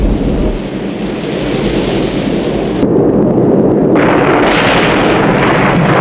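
A truck set on fire and exploding in the film First Blood, a loud, sustained rumbling blast roar that fills the whole stretch and swells slightly midway, with no speech.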